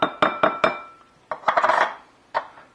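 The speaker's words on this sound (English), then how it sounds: "I'm going to go ahead and get the newly processed onion into the bowl" Processed onion scraped into a bowl lined with cheesecloth, a series of close, sharp clinks and knocks from a utensil against the bowl, a quick cluster of taps, then one last knock, with no talking.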